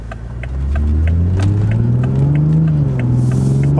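A car engine rumbles low and steady, its exhaust note rising slightly as it pulls, with faint popping burbles crackling over the drone.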